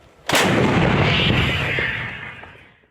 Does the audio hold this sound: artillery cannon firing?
yes